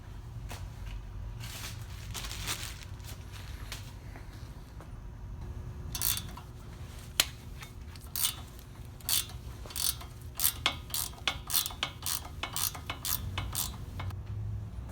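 A hand tool clicks and ratchets in quick bursts while a screw is set into a car steering knuckle during a suspension replacement, with metallic clatter over a steady background hum.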